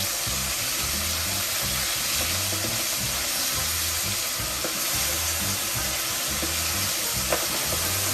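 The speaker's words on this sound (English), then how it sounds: "Now we're just going to put these in the oil." Oysters dropped into hot oil at about 350 degrees for a po boy fry with a steady, loud sizzle and crackle, a dense continuous hiss broken by occasional sharp pops, with no voices over it.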